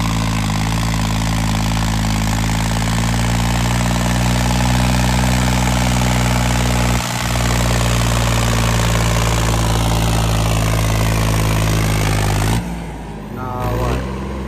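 A 5210 tractor engine revs hard and steady at close range, loud throughout with a deep rumbling drone, dipping briefly and then breaking up toward the end; voices sound faintly underneath.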